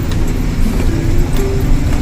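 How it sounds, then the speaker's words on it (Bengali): A truck driving through heavy rain on a mountain road, a loud steady engine and road rumble mixed with dense hiss, continuous and close, with no talk. "বৃষ্টির ভিতরে আমরা গাড়ি চালাচ্ছি"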